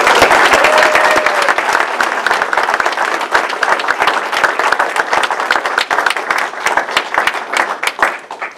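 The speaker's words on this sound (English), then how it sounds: "So a big round of applause." An audience gives a big round of applause at a Toastmasters event, with dense, loud, close clapping that continues throughout and slowly thins toward the end.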